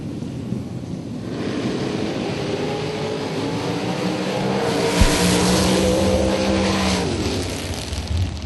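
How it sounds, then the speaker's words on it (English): A Super Pro drag race car's engine revs at the starting line, a sustained throttle roar that builds and swells over several seconds, heard from some distance with wind noise and no voices. "Somebody was whomping a throttle down there."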